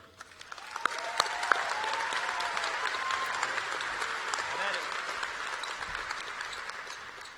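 A crowd at a 2018 high school graduation claps to welcome the salutatorian. The applause swells in within a second, holds steady and full, then tapers off gradually.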